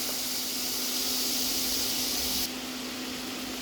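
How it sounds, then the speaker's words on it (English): Beef shawarma sizzles steadily in a pan with no oil, a dense, even hiss that stays loud and close throughout and eases slightly toward the end. "In our pan, let's put our beef shawarma."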